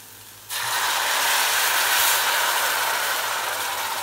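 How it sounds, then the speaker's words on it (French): Cognac is poured into a hot pan to deglaze it after crushed green peppercorns were added, and it erupts in a sudden loud, hissing sizzle. The sizzle holds steady and close for several seconds, with no talking. "On va déglacer avec le cognac."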